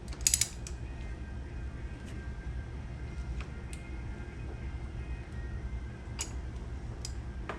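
Ratchet wrench working on the sprocket bolt of a 2001 Yamaha Warrior 350 ATV during a chain and sprocket install, faint close-up mechanical clicking and creaking with a few sharp ticks in a quiet garage.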